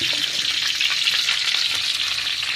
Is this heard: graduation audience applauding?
no